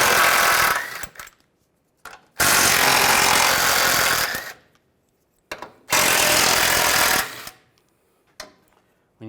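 A ratchet with a 15mm socket backing the four bolts out of the skid shield on a 2007-2013 Chevrolet Silverado: two long, loud bursts of rapid clicking ratcheting, each about two seconds, separated by brief knocks and quiet gaps.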